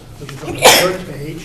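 A sneeze bursts out once, loud and close, during a finance committee meeting, with a voice speaking before and after it.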